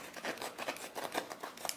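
Leatherman Raptor rescue shears from 2015 cut through trouser fabric in a string of close, crisp snipping and slicing strokes, repeated at an uneven rhythm, with no speech.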